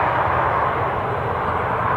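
A steady, loud aircraft engine drone rumbles continuously without pause, a broad whooshing roar of a plane on final approach passing nearby at Newcastle airport.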